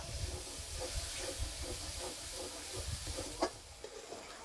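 Water splashed into frying spices of turmeric, cumin and chili powder in a pan for chicken curry, giving a faint, continuous hiss and sizzle with small crackling bursts, one sharper spit near the end.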